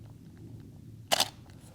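One crisp mechanical camera shutter click, close and brief, in an otherwise quiet room, taken at f/22 with a 1/50 shutter speed.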